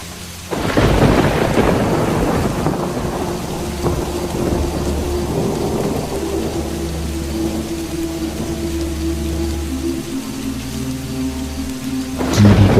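A loud crack of thunder opens into a long rolling rumble over steady falling rain, with another sharp burst at the end.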